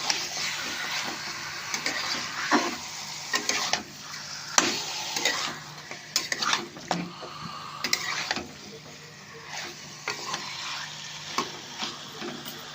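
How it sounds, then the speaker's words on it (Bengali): Marinated chicken stirred and fried in a pan for a yogurt chicken curry, with steady sizzling broken by repeated scraping strokes of a spoon against the pan, close and fairly loud with no talking. "দিয়ে আবারও ভালো করে নাড়াচাড়া করে নেব, মাংসটা কষে নেব"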